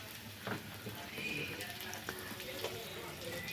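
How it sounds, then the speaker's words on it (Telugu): Onions frying in two spoons of oil in a pan give a faint, steady sizzle with light scraping clicks, quiet and close. "ఒక బాండి పెట్టుకొని అందులోకి 2 స్పూన్స్ ఆయిల్ వేసుకొని ఆనియన్స్ వేసుకోవాలి"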